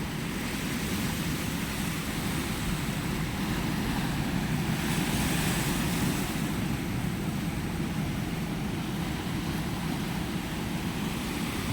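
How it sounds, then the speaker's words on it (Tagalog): Big ocean waves surf steadily onto the beach at Bacnotan, La Union, a continuous broad roar of breaking water that swells slightly midway and never lets up, with no voices over it. "Ayun, lalaki ng alon, oh."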